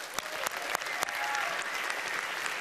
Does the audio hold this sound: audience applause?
yes